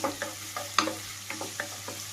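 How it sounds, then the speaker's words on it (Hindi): Green chilies fry with onions in a pan for a tomato gravy, a soft sizzle under a few scattered scrapes and clicks of a spoon stirring. "ये हरी मिर्च, इसको भी इसी में डाल देते हैं।"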